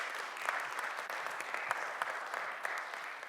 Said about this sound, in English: Let's give Mr. Donnell a round of applause.